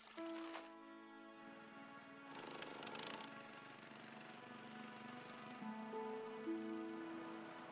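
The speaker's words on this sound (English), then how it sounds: "Drilling can continue." A steady mechanical drone with strong harmonic hum from a water well drilling rig engine running continuously in Liberia, with brief bursts of rattling and grinding.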